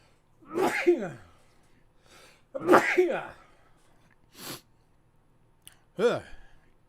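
Several sneezes in a row, spaced a second or two apart, with sharp bursts followed by breathy exhales, close up in a quiet room.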